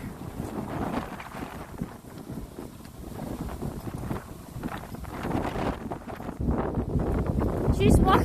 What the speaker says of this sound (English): She's walking so fast that you guys can only hear wind.